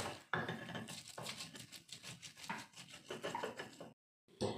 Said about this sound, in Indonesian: sekarang cabai merah besar, bawang putih dan bawang merahnya diulek ya